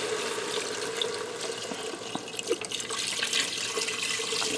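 Chicken broth pours into a pressure cooker holding browned chicken, a steady liquid splashing and trickling that runs for several seconds with a few small drips and clinks.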